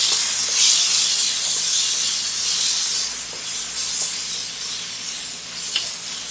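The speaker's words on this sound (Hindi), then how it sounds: "फ्लेम को मीडियम करेंगे और इसको अच्छी तरह से फ्राई करेंगे" Chicken liver with coriander powder and green chili frying over a medium flame, a steady loud sizzle and hiss throughout with a few faint stirring clicks.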